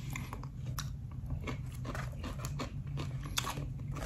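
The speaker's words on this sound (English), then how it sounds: "While I'm at it, let's go ahead and try the pickles." Someone close to the microphone chews store-bought jar pickles in a series of soft crunchy bites and wet chewing sounds over a low room hum, with no talk.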